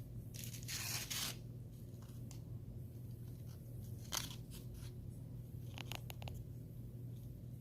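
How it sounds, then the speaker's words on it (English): Pringles Screamin Dill Pickle potato chips crunched close to the mic in short crisp bursts between quiet pauses, with a low steady hum underneath and no talking. "The chips are super crispy."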